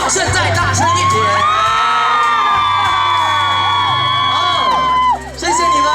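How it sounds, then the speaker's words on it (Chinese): A junior high school audience at an outdoor concert event in Pingtung screams and cheers loudly as one dense crowd, with high shrieks and whoops that swell, briefly dip, then rise again. "如果觉得自己很帅很漂亮的，尖叫声再大声一点。"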